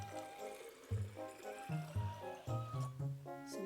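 Water poured into a graduated cylinder in a classroom salt-water versus fresh-water demonstration, a soft gurgling trickle with rising bubbly pitches as the vessel fills, close and fairly quiet.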